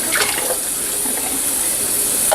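Water pours steadily and splashes into a bucket, a continuous rushing wash with a few brief clunks, while washing a wool cloth diaper.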